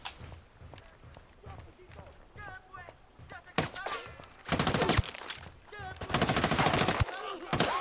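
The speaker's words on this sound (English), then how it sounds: "Taking fire from near the church" Heavy automatic gunfire in a PC tactical shooter, Ghost Recon Wildlands, with shots coming from near a church. Loud, dense bursts cut in over ongoing talk, then two longer sustained volleys follow.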